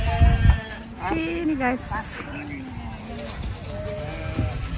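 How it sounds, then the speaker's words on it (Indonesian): Goats bleat at a roadside farm attraction near Malang, with a few wavering cries rising clearly over background chatter and outdoor noise as someone talks nearby. "Ada kambing guys."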